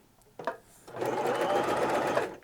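A Baby Lock Zest sewing machine stitching fabric with a lengthened stitch: a short mechanical clunk and pause, then a steady, close, continuous whirring run of stitching that lasts over a second before stopping.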